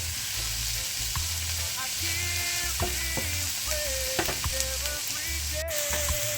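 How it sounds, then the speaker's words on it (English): Ground meat sizzles and fries steadily in a hot pan, with scraping and clinks of a utensil stirring it at intervals. "I add my ground meat to the saute ingredients"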